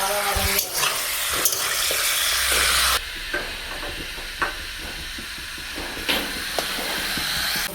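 Ginger, garlic and green chilli paste frying for a Bihari village-style chicken curry, a loud steady sizzle with stirring scrapes and clinks throughout, close up with no talk.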